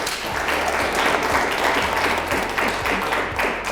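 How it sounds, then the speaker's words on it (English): A room of people applauding panelists at a law panel event, dense steady clapping throughout at moderate loudness, with no voices over it. "let's give a round of applause, please"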